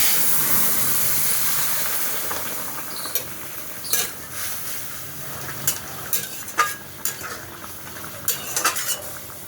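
Fish curry for tengra fish with brinjal sizzles and bubbles after being poured into hot oil seasoned with black cumin, with a steady hiss and scattered clinks and scrapes of a utensil against the pot.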